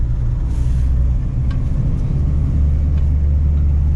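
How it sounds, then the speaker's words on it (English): An old column-shift truck reversing, its engine giving a steady low rumble throughout, loud and close, with a faint brief click or two. "chicken bone, backing up the truck in reverse"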